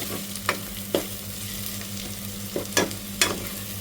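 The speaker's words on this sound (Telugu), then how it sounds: "ఇక్కడ మనకి ఆనియన్, మిర్చి అనేది మంచిగా వేగింది" Onions and green chillies fry in a pan for mint rice, giving a steady close sizzle with a few sharp scraping stirs of a spatula and no talk.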